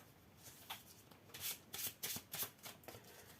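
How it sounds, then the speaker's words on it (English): A discard pile of playing cards is shuffled during a tabletop miniatures game, several quick riffling bursts in a row, close and fairly soft, with no voices. "So now I shuffle the discard pile."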